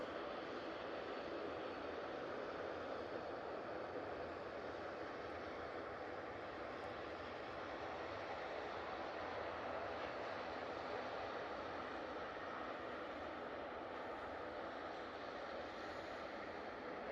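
An Aer Lingus Airbus A330-300 arriving from JFK on short final for runway 05R at Manchester Airport produces a faint, distant, steady jet rumble that holds evenly throughout.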